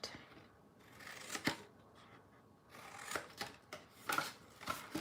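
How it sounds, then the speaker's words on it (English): Paper being trimmed with scissors for the bottom pieces of a holiday gift box, giving quiet close snips and rustling handling in short uneven bursts, with several sharper cuts toward the end. "now for the bottom of the box, we're going to trim these two just a little bit"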